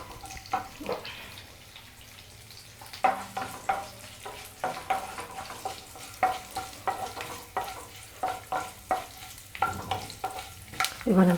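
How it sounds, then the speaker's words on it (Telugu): Tempering spices frying in a pan for mint chutney, a continuous crackling sizzle with repeated rhythmic stirring scrapes of the spoon, close and moderately loud, no talk. "పోపు చక్కగా వేగింది"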